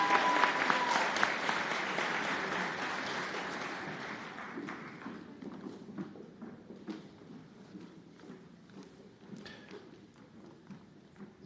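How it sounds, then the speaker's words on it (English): Audience applause at a nursing school white coat ceremony, loud dense clapping at first that gradually thins and fades into scattered claps and footsteps. "Another round of applause for this beautiful group here."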